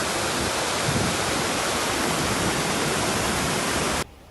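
Flood water rushes past Yalta's city embankment in flooded Crimea and pours into the sea, mixing with surf in a loud, unbroken roar that cuts off abruptly just before the end.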